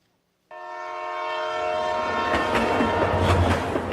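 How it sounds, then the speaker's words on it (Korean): A train arrival effect plays during a church service, opening abruptly with a loud sustained multi-tone horn blast that gives way to rumbling, clattering rolling wheels that swell and stay loud to the end. "지금 천국행 구원 열차가 들어오고 있습니다."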